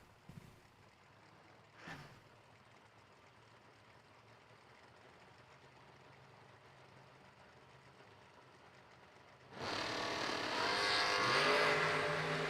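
A North Carolina Vega Wagon and a Chevy launch at a New Year Nationals drag race. A quiet stretch of distant ambience is broken near the end by a sudden loud, sustained roar of engines that carries on to the finish.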